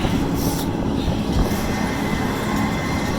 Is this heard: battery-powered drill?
no